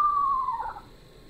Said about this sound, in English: We have a lot of Eastern Screech Owls around here.